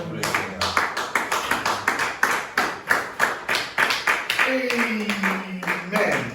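A church congregation claps in rhythm during a French-language worship service, dense repeated hand claps filling the room at a steady beat, with a voice or sustained tone rising briefly near the end.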